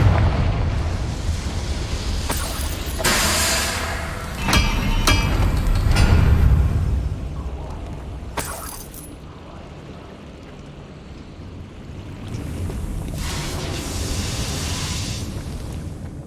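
Confringo explosion spells cast in Hogwarts Legacy burst as several booming blasts with rushing, crackling debris, followed by a lingering roar that fades and then swells again.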